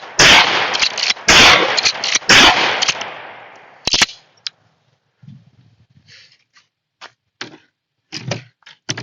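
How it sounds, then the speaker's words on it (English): A Remington TAC-14 shotgun fires 9-pellet military double-aught buckshot at an outdoor range, with several loud sharp blasts in quick succession followed by fainter clicks and thuds of handling. "got a Remington TAC 14, and I'm loaded up with 9-pellet military double-aught"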